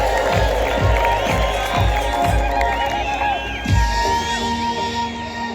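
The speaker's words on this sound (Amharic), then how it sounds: "እልልታ፣ ጭብጨባ፣ ክብር ለኢየሱስ።" A church congregation ululates in warbling, high trills and claps along with steady, rhythmic beats, a dense and lively crowd sound that carries on throughout.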